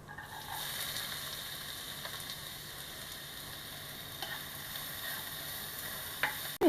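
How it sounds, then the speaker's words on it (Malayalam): Chopped onions sizzle steadily in hot coconut oil in a pan, a soft continuous frying hiss with occasional light stirring scrapes and clicks, close and alone. "ഈ സവാളയൊന്ന് വഴറ്റിയെടുക്കാം."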